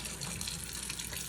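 Tap water running steadily into a kitchen sink for handwashing while making ready-to-bake cookies, a continuous close splashing hiss with no talk over it.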